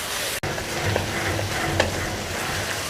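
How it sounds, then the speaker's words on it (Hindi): Masala sizzling and frying with bitter gourd (karela) in a pan, a steady close crackle with soft stirring scrapes throughout, one brief sharp knock near the start, no voices. "तो मज़ीद करेलों के साथ हम इस मसाले को 2 मिनट के लिए भूनेंगे"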